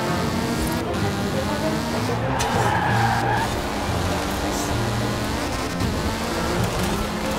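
Cars race on a rallycross circuit in Forza Horizon 4. Several engines drone and whine together, with tyre skids, under faint talk.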